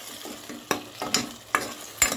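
Small prawns fried in a pan with chili powder, ginger, garlic paste and onion paste make a quiet sizzle under four or five distinct, sharp scrapes of a spatula stirring the mixture.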